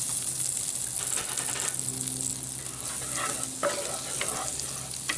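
Two tablespoons of butter melt in a Dutch oven over an open fire with bottom heat, making a steady, quiet sizzle and hiss throughout. It is the start of a roux for German-style venison and wild hog meatballs.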